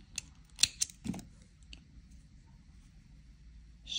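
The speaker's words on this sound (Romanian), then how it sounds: "Tăiem firul" Scissors snip through crochet yarn while working on a crocheted doll, giving a few quick, close clicks near the start and then quiet handling noise.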